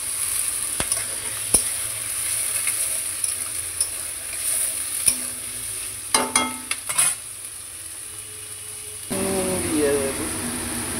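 Potato and onion frying in a pan with occasional stirring, a steady sizzle throughout with brief scraping bursts and a louder hiss near the end after fresh ingredients are added.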